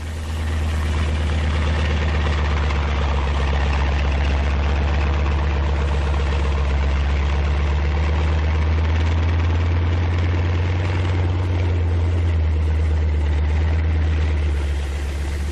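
A 1944 medium tank fitted with a bulldozer blade runs its engine, a loud steady low rumble with constant drone throughout, from an old wartime film soundtrack.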